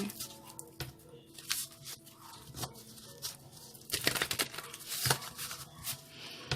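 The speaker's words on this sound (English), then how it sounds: "They want me to keep on shuffling." Playing cards are shuffled close by in repeated riffling bursts, crisp and papery, with quiet background noise and no talking.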